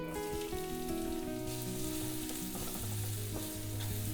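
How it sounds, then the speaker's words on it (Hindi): Onions hit hot oil in a Chinese wok in a commercial kitchen for egg bhurji, bursting into a loud, dense crackling sizzle that stays steady and close throughout. "अब डाल लेते हैं अनियंस।"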